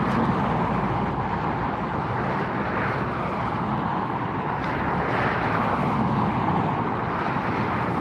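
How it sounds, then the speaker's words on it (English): A Lufthansa Airbus A380 comes in to land at LAX, heard as a broad, continuous jet roar that holds steady and fairly loud for the whole stretch. "We've got the Lufthansa A380 coming in next"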